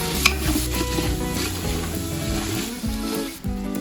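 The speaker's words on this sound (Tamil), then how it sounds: "தக்காளி போட்டு ஒரு 2-3 நிமிஷம் கொஞ்சம் நல்லா கிண்டவும்." Chopped tomatoes frying in a pot for biryani while a spoon stirs them: a steady close sizzle runs throughout, with scraping and stirring movements over it.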